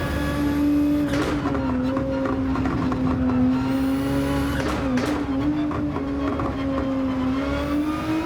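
A Nissan GTR drives in the Gran Turismo video game, its engine holding a loud, steady high-revving drone with slight pitch shifts and brief gear-change dips, close and continuous with no talk.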